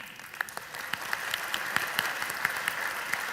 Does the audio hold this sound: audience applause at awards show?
yes